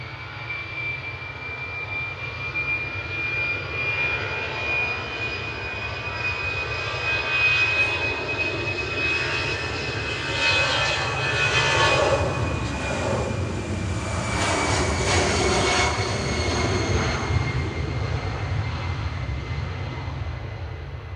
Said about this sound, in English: I can hear the wobbling sound of a CF6